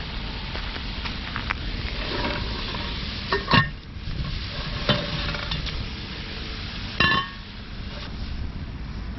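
Ground beef frying in a pan over a campfire while being stirred, a soft continuous sizzle with a few sharp utensil scrapes and clinks against the pan.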